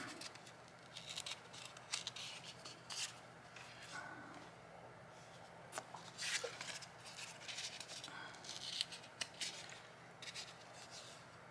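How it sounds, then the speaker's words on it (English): Paper being torn by hand for a mixed-media board, with intermittent crisp ripping bursts up close over a quiet background, several separate tears spread out with pauses between. "let me just tear these a little bit more"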